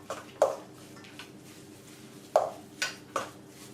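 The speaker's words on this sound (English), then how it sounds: "I'm just going to try mixing it with this little spoon" A small spoon clinks against a bowl while mashed bananas are stirred for homemade dog treats. Five or six sharp taps and scrapes come at irregular intervals over a quiet background.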